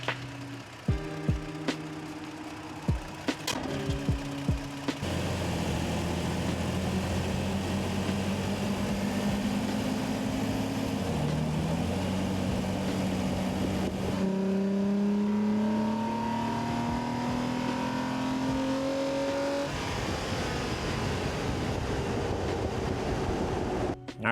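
Third-generation Toyota Tacoma engine fitted with an HPS Performance intake tube, heard from under the hood: a few sharp clicks, then a steady loud idle that rises in pitch as it revs and settles back down, alone without talk.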